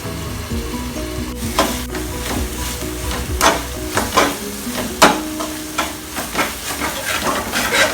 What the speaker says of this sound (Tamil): அதனால் வந்து கொஞ்சம் நம்ம கிளறிட்டே இருக்கணும்